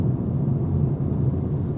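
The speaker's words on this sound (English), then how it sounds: "there is a good degree of road noise entering this cabin" Steady low road rumble fills the cabin of a 2026 BMW M2 CS driven on wet roads in the rain, a continuous dense drone with no voices over it.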